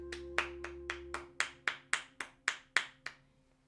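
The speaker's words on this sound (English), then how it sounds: "Round of applause for Nomada Studio." A single person clapping about a dozen times in a slow, even rhythm, close and fairly quiet, with a faint steady hum beneath and no talk.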